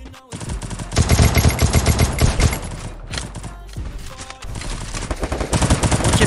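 Rapid automatic gunfire in a shooting video game, loud, dense bursts of close shots running almost continuously with brief pauses, a voice faintly underneath.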